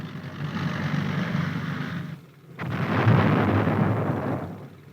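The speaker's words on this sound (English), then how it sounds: "The tanks of the armored force are supplemented by self-propelled big guns and other vehicles" Self-propelled big guns of a 1950s U.S. Army armored force fire, with two long, heavy booming blasts separated by a short lull, loud and rumbling, with no talk over them.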